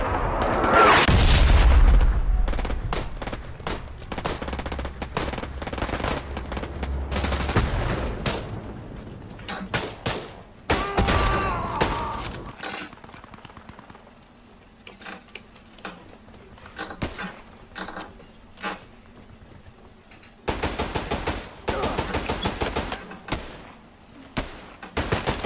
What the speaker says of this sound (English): Alright, I just called in a strafing run.